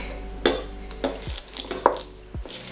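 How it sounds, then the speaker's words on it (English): Gluten-free, dairy-free chocolate chip cookie dough is being mixed in a bowl, with several separate knocks and scrapes of a utensil and soft squishy stirring sounds, close and fairly quiet. "So we're just gonna start mixing."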